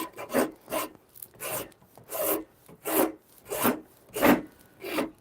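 A rasp files and shapes a wooden shillelagh stick in close, steady back-and-forth strokes, about eight even rasping passes in a regular rhythm with no talking.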